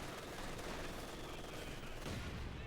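Heavy machine gun teams firing in Company of Heroes 2, dense continuous bursts of gunfire in a busy battle, fairly quiet and mixed with other combat noise and some talk.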